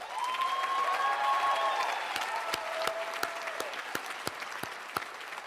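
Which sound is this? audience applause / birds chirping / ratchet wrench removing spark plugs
audience applause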